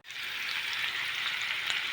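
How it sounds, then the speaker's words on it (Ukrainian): Asparagus sizzles steadily in hot butter, a constant bright crackle and hiss with no voices. "Смажиться спаржа."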